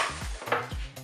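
Egg cracked against a Cookeo bowl while making coconut milk egg custard, two quick sharp taps with a faint ringing clink, close and isolated.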